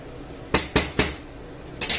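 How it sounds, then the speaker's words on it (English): A spoon knocks against a cooking pot while chicken feet and chorizo stew is mixed, four sharp metallic clanks in quick succession, close and loud. "We'll give it a nice mix about."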